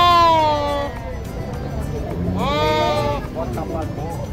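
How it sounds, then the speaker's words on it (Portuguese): Goat bleating at a cattle and livestock fair in Afogados da Ingazeira, Pernambuco, with several loud wavering calls among a murmur of people talking. "Olha o bode lá, olha."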